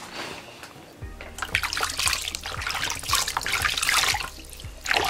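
Lukewarm tap water splashes and trickles while underarms are rinsed, with uneven bursts of running water and dripping that swell and ease, close and fairly loud.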